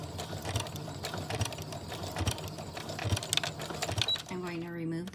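A sewing machine fitted with a walking foot stitches pleated fabric, a steady close mechanical clatter of rapid rhythmic ticks that stops near the end, followed by a brief low tone.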